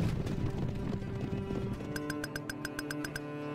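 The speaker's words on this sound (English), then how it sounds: "At the gallop! Galloping horses." Galloping horses in a medieval strategy video game: a dense, rapid clip-clop of hooves with a low rumble, joined midway by a quick run of bright ringing ticks, all fairly close and steady.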